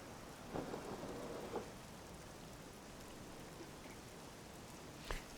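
Steady rain from a Train Simulator Classic Leipzig to Dresden run hisses alone at low level, with a couple of faint thunder-like rumbles and brief crackles rising through the downpour.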